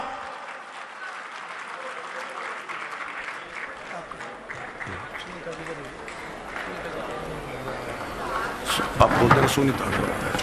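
Hearty applause from an audience at a public function in Jaipur, welcoming the Jaipur Greater mayor; a dense, steady patter of many hands that swells louder toward the end, with faint voices mixed underneath.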